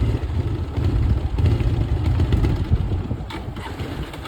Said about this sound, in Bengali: বাইকটা পিক আপ নিচ্ছে না, মনে হয় দম ছেড়ে দেবে এখনই।